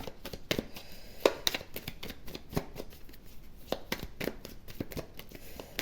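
Tarot cards shuffled by hand, a steady run of soft riffling flicks and taps with a few sharper snaps, close and quiet with no talking.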